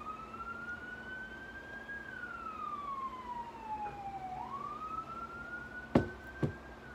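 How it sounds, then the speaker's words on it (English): An emergency siren wails and slowly sweeps up and down in pitch at a moderate distance, followed by two sharp knocks near the end. "Let's let the siren pass."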